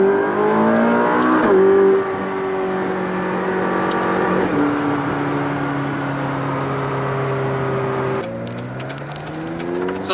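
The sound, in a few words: McLaren 570S Spider engine accelerating in track mode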